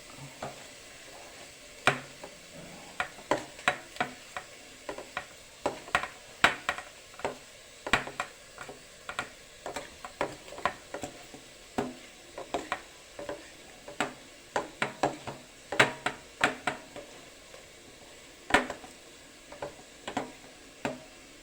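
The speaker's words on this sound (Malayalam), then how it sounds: "നമ്മുടെ തേങ്ങ ഇച്ചിരി മഞ്ഞൾപ്പൊടി ഇട്ട് വെച്ചിട്ടുണ്ട്. ഞാനിനി അതൊന്ന് ഞെരടാൻ പോവാം." Bare hands squeezing and rubbing grated coconut with turmeric powder in a bowl for a thoran, giving soft irregular crackly rustles and taps in quick bursts throughout, close and fairly quiet, with no talking.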